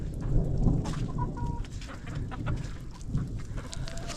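Chickens cluck around a farm chicken coop with a torn shade cloth after a thunderstorm, soft fowl calls rising over steady outdoor wind rumble and background noise.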